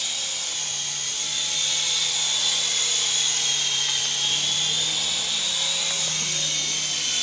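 A Syma S111G toy RC helicopter flies indoors with a steady, high-pitched rotor and motor whine that holds at a constant level throughout, with no talking.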